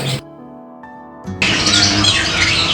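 Parrots squawk and screech at a bird market in Indonesia, a loud, dense chorus of harsh calls that swells after a brief tonal cry, with a voice faintly present.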